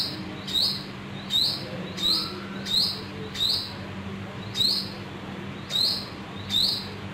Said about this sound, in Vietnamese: Nuôi chim trong hồ cá.